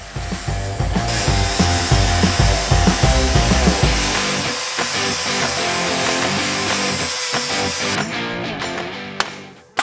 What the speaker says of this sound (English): We cut both sides and cleaned them up with a right angle grinder.